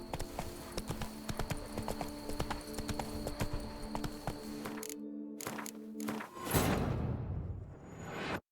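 Horse hooves clip-clop in a steady rhythm in The Witcher 3: Blood and Wine, loud and close at first, then cut off as a whoosh and a surge of low rumble take over near the end.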